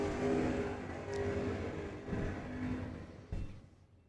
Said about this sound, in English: a little burnout contest between Kenny and Gary